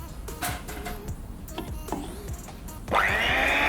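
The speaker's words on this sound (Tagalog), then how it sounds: "Gumamit ako dito ng electric mixer kasi ayaw ko magkamay." An electric hand mixer starting up in a bowl of dissolved coffee, sugar and hot water for dalgona coffee, a rising whir kicking in near the end after clattery handling noises.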